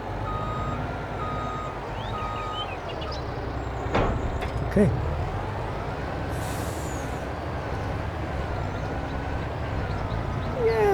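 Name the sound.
truck driving in Farming Simulator 22 video game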